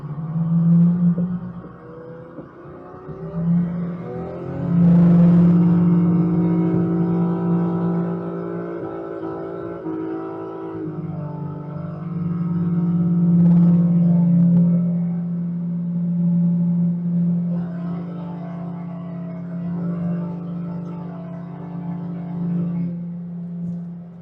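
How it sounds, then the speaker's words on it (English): A car held at high revs during a long burnout gives a loud, sustained engine drone that rises and falls in pitch over about twenty-four seconds, with no voices. "we're gonna do a 26-second burnout"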